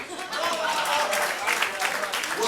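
Audience applause at a Hindi kavi sammelan poetry recital: a dense, steady crackle of many hands clapping together, fairly loud and sustained throughout.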